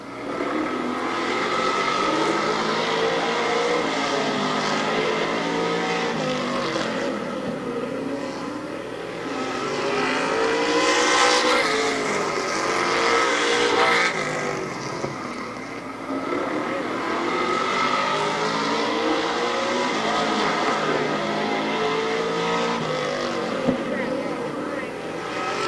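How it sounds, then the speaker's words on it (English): Race cars roar around Barberton Raceway Park during a race, engines droning and rising as they pass close, under a continuous announcer's commentary. "7 laps to go for the leader, Earl Goldie."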